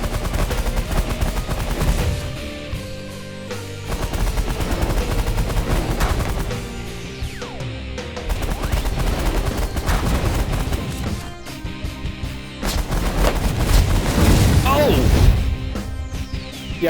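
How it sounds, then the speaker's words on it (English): Artillery turret fire in the space strategy game The Last Federation, a run of loud, rapid blasts and crashes layered over a busy game soundtrack, with bursts that swell and then ease off. "This is basically an artillery turret."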